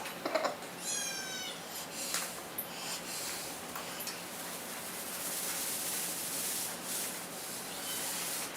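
Amelia, an 18-year-old hungry cat, lets out a short meow near the start, followed by soft rubbing and rustling noises at close range on a quiet background.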